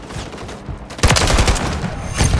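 Gunfire in the video game Call of Duty: Modern Warfare 3 multiplayer, a quieter patch and then a loud, sustained burst of rapid automatic shots with a second surge near the end.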